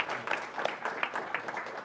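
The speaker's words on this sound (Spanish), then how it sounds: "pues un aplauso para ellos" Audience applause for two speakers at a migration policy discussion, soft, even clapping heard from a distance and sustained throughout.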